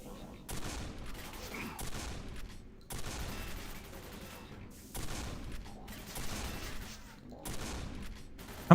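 Shotgun blasts in the video game Quake 4 fire in repeated bursts over a dense backdrop of game action, with rapid loud reports recurring across the whole stretch at moderate level.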